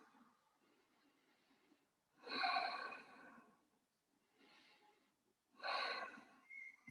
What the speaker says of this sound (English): And taking a few deep breaths after that.